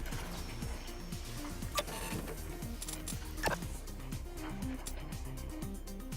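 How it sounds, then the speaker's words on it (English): A pill printer machine runs in the Big Pharma video game, a quiet, steady mechanical hum with a regular repeating whirring cycle and a couple of faint clicks. "All right, good old pill printer."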